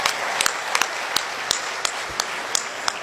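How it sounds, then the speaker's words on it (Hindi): An audience at a Hindi-language event in Haryana applauds Vishnu ji with steady, dense clapping throughout, moderately loud, with a few sharper individual claps standing out. "एक बार तालियां और विष्णु जी के लिए बजा दे"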